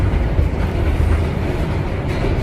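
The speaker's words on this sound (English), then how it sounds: "Subway underground." A New York City subway train runs underground with a steady, loud, dense rumble and rattle of wheels and cars, without distinct breaks, heard from inside the train.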